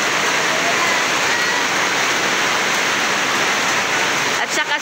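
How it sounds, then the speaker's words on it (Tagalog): Heavy rain pouring down in a steady, loud, dense hiss that stays unbroken throughout, close and enveloping. "Lalong lumakas yung ulan guys."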